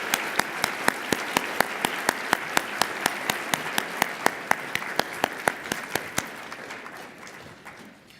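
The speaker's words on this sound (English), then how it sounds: "Let's give them a round of applause." Audience at a legal aid organization's annual meeting applauds award recipients, with crisp, distinct claps standing out over a steady wash of clapping that fades slightly toward the end.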